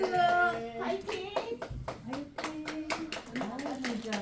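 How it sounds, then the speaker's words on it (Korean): Scattered hand claps from a small audience in a Christian ethics lecture, sharp and fairly close, ringing out in an uneven rhythm under cheerful voices and talk. "박수."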